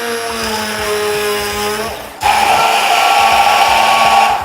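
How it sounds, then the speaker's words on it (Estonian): A stick blender whirs steadily through an avocado and peach smoothie, its loud motor whine holding constant, then dipping briefly and surging back stronger as it bites into the fruit mix. "kasutada sellist peenet tööriista, saumikserit ja kõik see segamini mikserdada"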